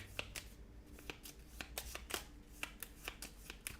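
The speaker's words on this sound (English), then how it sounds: "So I think you shuffle his deck in with this deck." Quiet riffling and snapping of playing cards being shuffled for a deck-building board game, a series of quick crisp bursts close by.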